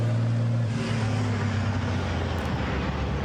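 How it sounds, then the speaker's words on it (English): Heavy FIA European Truck Racing Championship race truck at the Hungaroring, engine roaring loud and steady through a burnout, deep low rumble dominating without pause. "Truck Sport burnout."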